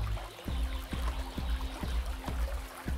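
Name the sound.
water falling in a sheet from a garden water feature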